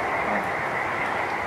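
Dense chorus of frogs croaking steadily at a lake in a forest, a continuous close, loud massed trilling that fills the whole stretch with no gaps.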